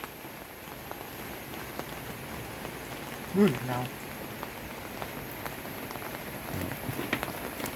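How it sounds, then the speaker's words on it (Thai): Heavy rain pours down in a steady, dense hiss that carries through the whole stretch, while a voice briefly speaks over it near the middle. "ฝนตกบ่หยุดบ่ยัน"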